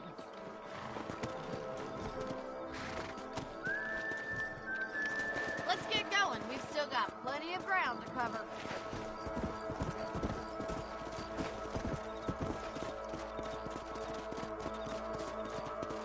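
Rhythmic hoof clip-clops of horses moving at a steady pace in the video game Red Dead Redemption, with someone talking over them and a short whinny partway through.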